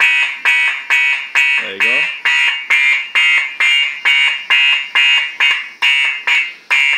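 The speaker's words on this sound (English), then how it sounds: "I'll turn the alarm on and then watch what happens with the siren." A siren wired into a custom PC case mod as an intrusion alarm blares in loud, rapid, evenly spaced electronic pulses, about two per second, with a brief spoken remark partway through.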